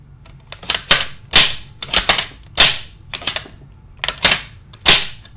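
Bolt of an Uzi SMG fitted with a .22LR conversion kit being cycled by hand, a close, loud run of sharp metallic clacks in quick irregular pairs.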